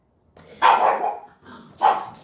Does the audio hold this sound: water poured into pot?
no